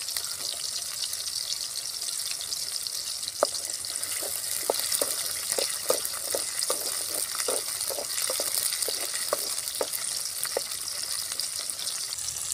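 Garlic goes into a pan of well-sautéed onions while cooking appalam kulambu, making a continuous sizzle with a regular series of light clicks and taps from stirring, and no speech.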